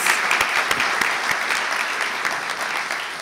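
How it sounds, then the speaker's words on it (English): Audience applause fills a university convocation, a thick, even roar of many people clapping that holds steady and eases only slightly toward the end. "Applause, applause, applause."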